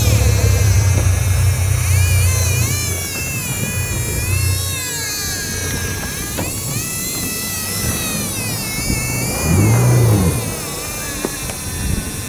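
A boat motor drones and revs during a fish chase at sea, a loud rumbling engine tone with shifting pitch, mixed with wind and water noise and brief voices.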